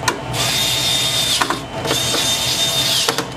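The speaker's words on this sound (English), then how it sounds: "Go ahead and put our screws in." A small electric screwdriver whirs as screws are driven in while fitting a replacement cooling fan inside a Dell 7700 series all-in-one computer, with two long whining runs broken by brief clicks, close and loud.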